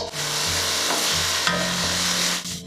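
Apples and raisins being stirred in oil in a pan, a continuous close scraping and sizzling rasp with steady back-and-forth strokes, no talk.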